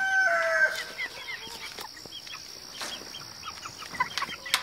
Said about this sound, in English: roosters are crowing, I gotta let you go.